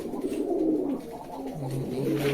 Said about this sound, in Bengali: এখানে কবুতর কত সুন্দর উড়াউড়ি করছে